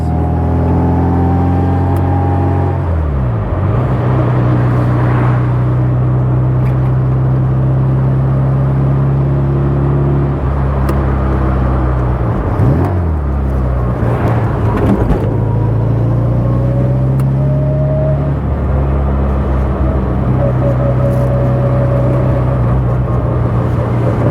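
A restored 1960 Bugeye sports car drives along, its small engine droning steadily up close with clear rising and falling rev changes as it shifts and takes turns, running alone with no talk.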